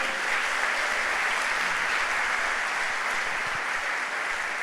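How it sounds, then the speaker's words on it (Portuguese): A church congregation applauds during a sermon, a dense steady wash of many hands clapping that holds at an even level for several seconds with no talk over it. "Pode aplaudir que é para ele"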